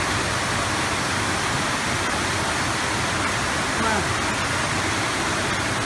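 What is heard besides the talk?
floodwater pouring like a waterfall at a train station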